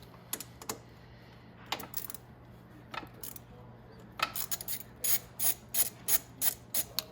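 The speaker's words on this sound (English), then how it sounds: "let's go ahead and take these bolts off the front of the intake" A hand ratchet clicks in quick, close bursts while loosening the front intake bolts behind the carburetor on a Venom X22 125cc motorcycle, the rapid pawl ticks speeding into a steady rhythm toward the end.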